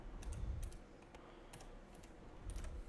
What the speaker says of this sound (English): Let me just type this in.